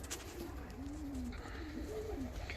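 Low throaty cooing comes from a pair of fancy crested show pigeons, two or three rolling phrases close at hand over steady background noise.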